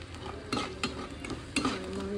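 Onion fries to brown in a pan under a continuous soft sizzle. A spoon stirs it with a few distinct scraping clacks, close and moderately quiet, with no talking.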